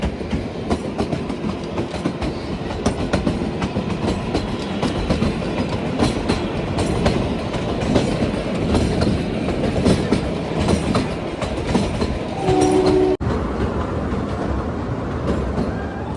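Himalayan Queen train climbing the Kalka-Shimla narrow-gauge mountain line through tunnels, steady loud clickety-clack and rattling of the moving carriages heard from on board, with a brief rise in rumble near the end and no talking.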